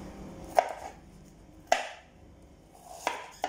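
A knife chops garlic and onion on a cutting board. The cuts come as a few distinct, spaced thuds at an unhurried rhythm over a quiet background.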